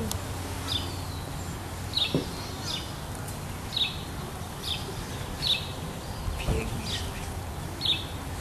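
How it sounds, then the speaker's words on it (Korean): Short bird chirps and calls ring out repeatedly across a park, a few at a time at steady intervals over a soft outdoor ambience, with no talking. "우리가 지금 가장 잘 들릴 수 있는 소리가 새소리죠."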